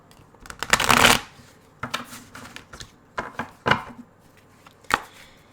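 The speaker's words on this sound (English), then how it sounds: "Let me shuffle. We're going to shuffle." Tarot cards being shuffled by hand, close bursts of riffling and flicking with short pauses between, a long shuffle first and several quicker snaps after, no talk.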